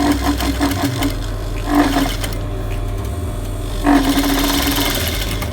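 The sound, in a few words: sewing machine stitching a waistband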